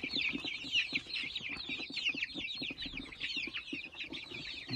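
Chickens and a rooster cluck steadily at close range, a dense overlapping chatter of clucks with no talk.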